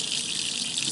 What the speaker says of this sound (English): we can just rinse this off with water